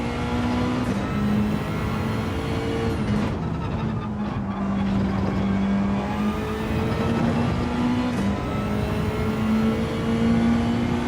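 A race car engine in Gran Turismo 7 holds a loud, steady high rev with the pitch rising and falling slightly as it is pushed hard through the gears, dominating throughout.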